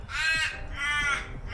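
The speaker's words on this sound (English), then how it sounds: "These crows. There's a murder of crows." Two loud, harsh caws from crows near a suburban lawn, each drawn out and close, separated by a short pause with faint background noise.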